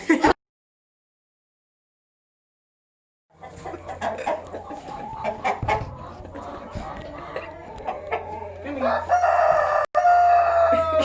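Barred Rock (Plymouth Rock) chickens on a poultry farm in Mount Pleasant, NC cluck and squawk loudly after a brief silence, with a rooster crowing and agitated flock noise rising toward the end during an attempt to catch one.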